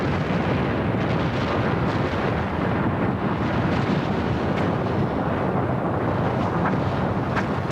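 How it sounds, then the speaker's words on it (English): The 1980 eruption of Mount St. Helens blasting from the volcano's north face: a massive, continuous roaring rumble, dense and unbroken for the whole stretch, with wind-buffeted, distorted low-end noise and no speech. "a huge explosion bursts out from the north face of Mount St. Helens"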